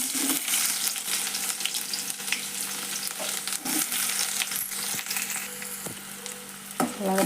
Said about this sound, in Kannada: ಈಗ ನಾ ಒಗ್ಗರಣೆಗೆ ಹೆಚ್ಚಿಟ್ಕೊಂಡಿದ್ನಲ್ರಿ ಉಳ್ಳಾಗಡ್ಡಿ ಟೊಮೆಟೊ ಹಾಕೋತೇನೆ